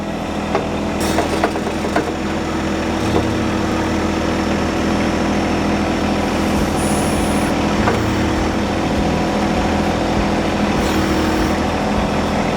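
A John Deere 1025R compact tractor with a backhoe attachment runs steadily while its 6-foot-reach arm stretches out to dig a scoop of dirt. The engine drones loud and constant throughout, with faint clanks of the hydraulics.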